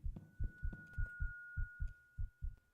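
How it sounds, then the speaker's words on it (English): Steady heartbeat thumping in a horror video game, about ten deep paired beats in a slow regular rhythm, close and prominent, with a faint thin tone sustained underneath. "Start to get a heartbeat"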